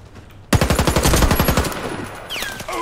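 Rapid automatic gunfire in the video game Warface, a loud burst of about twenty evenly spaced shots lasting over a second, then fading into echo with a short rising whistle at the end.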